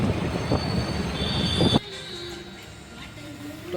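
A train at a busy railway station, with loud rumbling and squealing wheels filling the first half before dropping to a quieter platform hum with faint rail noise.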